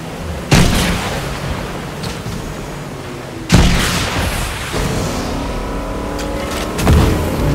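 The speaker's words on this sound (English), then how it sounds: "I'm just gonna shoot it." Heavy gunshots in Fortnite ring out loudly at roughly three-second intervals, each a sharp blast trailing into a booming echo over a steady game background.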